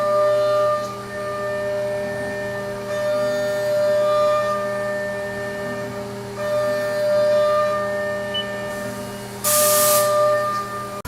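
A Haas VF-2SS CNC vertical mill spindle spinning at 12,000 RPM with coolant switched off, giving a steady high-pitched whine of stacked tones that dips briefly and ends in a short hissing burst of air.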